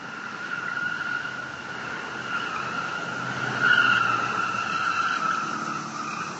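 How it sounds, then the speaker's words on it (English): A car on a city street in Old Louisville making an odd noise, a sustained high whining squeal that holds for several seconds and swells midway, over a low traffic rumble. "Cars making an odd noise."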